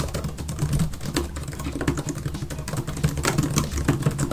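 Hard, forceful keystrokes on a Samsung Smart Keyboard Trio 500, a dense run of sharp clicks and clacks at a quick steady pace, close and alone.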